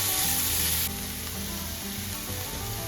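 Onions and whole spices frying in hot oil for a jackfruit kalia, a bright steady sizzle that drops noticeably quieter after the first second and keeps crackling closely without talk.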